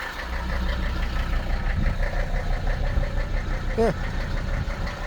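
A 1978 Mercedes 300SD W116 turbodiesel engine idles warm with a steady low rumble and clatter, close by, while a person briefly speaks over it.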